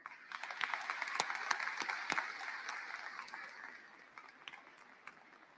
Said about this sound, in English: please join me in thanking all the adults who have helped you reach this point in your educational career and life with a round of applause